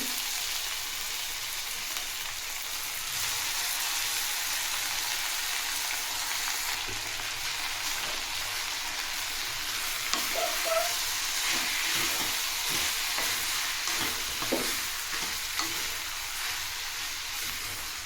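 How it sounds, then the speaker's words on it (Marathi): Grated sweet potato fries in hot ghee with a continuous soft sizzle and hiss, close and steady, broken by a few light scraping stirs. "हे किसलेले रताळे टाकून घ्यायचं आहे तुपात आणि याला तुपातच भाजून घ्यायचं आहे"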